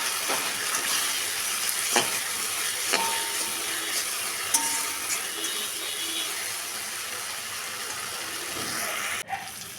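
Ground spice paste fries in hot oil for a village-style katla fish kalia, a dense continuous sizzle close by with occasional scrapes of a stirring spoon against the pan, no voices.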